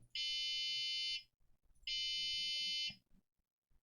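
Two long, steady high-pitched electronic buzzer tones, each about a second, separated by a short pause, with faint background noise.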